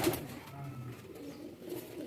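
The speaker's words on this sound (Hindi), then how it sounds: "ये हरा कबूतर है, ये साल का उड़े वाला।" Soft cooing from a green pigeon kept among home-bred pigeons, low throaty coos that repeat close by against light background noise, with no one speaking.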